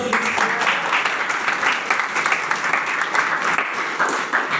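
An audience applauds after a motivational network-marketing talk, dense steady clapping filling the room at even loudness throughout, with no voice over it.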